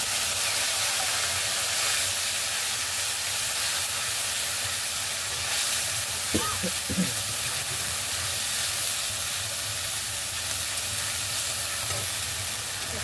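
Ginger and green chili paste sizzles and spatters hard in hot oil for khichuri, a steady loud hiss throughout with a few sharper pops near the middle, no voices.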